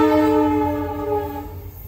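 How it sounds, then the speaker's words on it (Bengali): A passenger train arrives near Jaldapara, its horn blaring loud and close in one long sustained blast with strong harmonic tones that slowly fade, backed by the low rumble of the rolling train; no one speaks. "এই ট্রেন আসছে"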